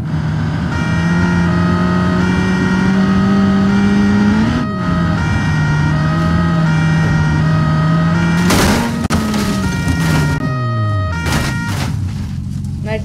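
Cherrier Vivace car in BeamNG.Drive, engine droning under a continuous siren, then an abrupt crunching crash of several loud impacts and a falling engine note as the car slows, close and loud.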